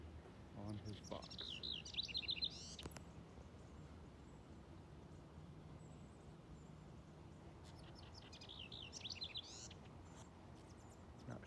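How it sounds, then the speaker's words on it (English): A wren calls near its nest box in a garden with mason bee houses, giving two short bursts of high, trilling chirps a few seconds apart over a steady outdoor background hum. "There's the wren on his box."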